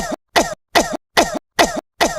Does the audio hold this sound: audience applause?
no